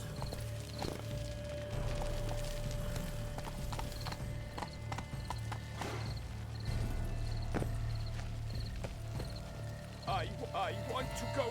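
Hooves of a horse in The Witcher 3: Wild Hunt (Blood and Wine) beat a steady, close clip-clop rhythm throughout, with a brief whinny and people speaking over it.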